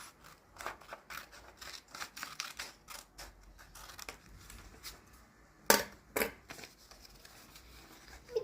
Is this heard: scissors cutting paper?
yes